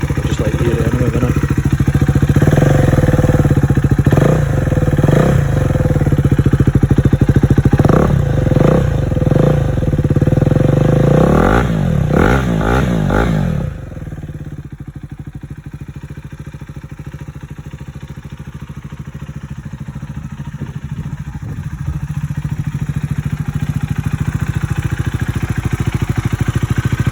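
A 2022 Euro 5 KTM 390 Duke single-cylinder motorcycle fitted with an aftermarket exhaust, loud and close, revving in several sharp bursts before settling into a quieter, steady idle for the rest of the clip.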